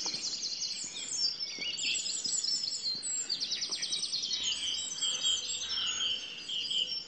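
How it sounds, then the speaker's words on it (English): A dense dawn chorus of songbirds including blue tits, with wood pigeons, fills the air: many overlapping high chirps and trills, fairly faint and distant, with no talk. "Just what a noise, it's beautiful. Got blue tits in there."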